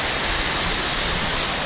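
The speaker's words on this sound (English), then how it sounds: "Crazy waterfall." Loud, steady roar of a 600-foot-long waterfall, broadband rushing water filling the whole clip up close with no break.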